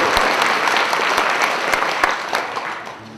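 Concert audience applauding a drummer, a dense, steady wash of clapping that fills the space and slowly fades near the end.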